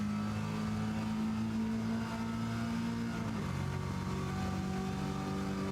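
A race car engine in a racing video game drones steadily, then its pitch shifts midway as the car powers up, a constant, moderately loud mechanical tone with no talking.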